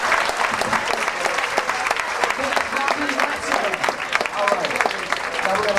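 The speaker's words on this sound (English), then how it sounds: "Give yourselves a round of applause." An audience at a welcome and orientation program claps in loud, dense, continuous applause that lasts throughout, with a crowd murmuring faintly underneath.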